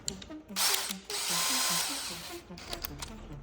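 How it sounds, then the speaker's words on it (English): Power drill spinning to twist aircraft safety wire while building a RANS S-21 header tank, a steady whirring burst with ratcheting, gear-like tones, close and fairly loud, starting and stopping in short runs. "chuck up one of the wires in your drill"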